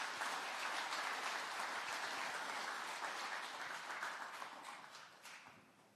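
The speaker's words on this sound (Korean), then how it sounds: "여러분 큰 박수로 환영해 주시기 바랍니다." Sustained audience applause welcomes the head of the Korea Senior Citizens Association to the stage at a Parents' Day commemoration ceremony, dense and steady at first, then gradually thinning and fading toward the end.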